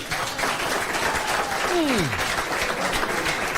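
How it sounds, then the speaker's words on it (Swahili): An audience at a school Swahili arts performance claps steadily throughout, a dense continuous wash of applause with a faint voice sliding down beneath it. "Makofi umpigie jamani."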